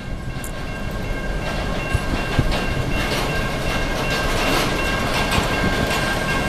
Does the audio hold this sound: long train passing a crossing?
yes